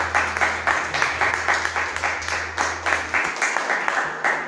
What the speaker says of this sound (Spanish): ¿Alguien puede aplaudir a Dios?